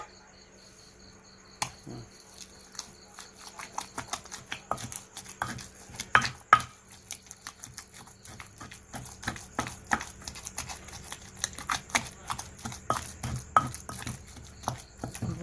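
Spicy Isan fish larb being pounded in a mortar, giving a steady run of dull thuds and soft knocks that pick up pace and continue throughout against a faint background hum.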